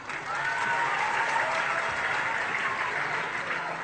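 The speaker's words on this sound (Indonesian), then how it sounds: "Kasih tepuk tangan buat yang maju." An audience at a religious gathering applauding a child who came forward, giving sustained, dense clapping that swells quickly and holds steady before easing off, with some voices faintly underneath.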